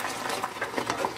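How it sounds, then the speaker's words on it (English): Apple filling being stirred constantly in a pan on the stove, a close, soft scraping and sloshing of a utensil moving steadily through the thick mixture, with no voices. "Stirring constantly because you don't want it to burn."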